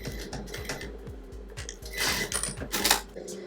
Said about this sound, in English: I cut a 27-inch band, and I'm going to just stitch it together.